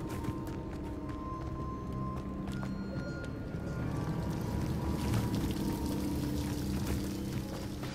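Waterfall in Hogwarts Legacy, a continuous rushing, pouring wash of water that stays steady and fairly close, with faint background game sounds and no talking.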